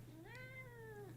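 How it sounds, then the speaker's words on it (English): A single drawn-out cat meow, rising then slowly falling in pitch, heard close over a steady low hum. "Can you not hear him meowing in the background?"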